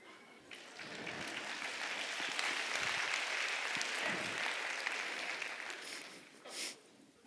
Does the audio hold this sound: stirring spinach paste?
no